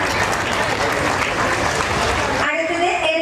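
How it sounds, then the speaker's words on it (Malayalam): A crowd at a Kerala award ceremony honouring elected representatives claps vigorously and continuously, then the applause cuts off abruptly into a brief tonal sound. "നല്ലൊരു കയ്യടി കൊടുക്കാം"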